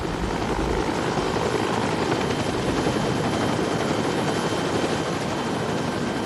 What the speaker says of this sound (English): They put him in the helicopter and it took off.